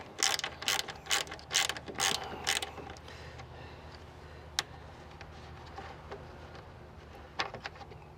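A hand ratchet loosens the coarse-threaded upper fan shroud bolts on a 1996-2004 Nissan Pathfinder, making a quick run of close, crisp clicks at the start, then a quieter stretch with a few isolated taps.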